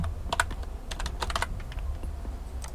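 Close, steady typing on a computer keyboard: quick irregular key taps and occasional heavier strokes over a low background hum, with no talking.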